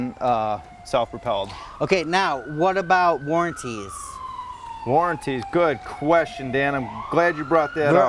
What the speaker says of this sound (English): There is. That's the ambulance though, huh?